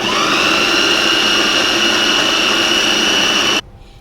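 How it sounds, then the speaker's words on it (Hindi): An electric chopper grinds chicken mince with a loud, steady motor whine, droning continuously at close range before cutting off abruptly near the end, no voices over it. "दोबारा से मशीन चला देंगे चॉपर।"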